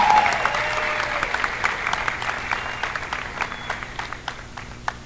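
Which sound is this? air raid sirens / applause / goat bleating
applause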